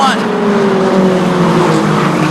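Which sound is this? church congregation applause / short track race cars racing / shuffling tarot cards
short track race cars racing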